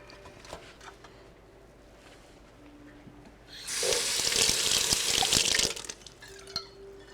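A kitchen tap runs in a steady, loud stream for about two seconds, then shuts off, with a quiet room before and after.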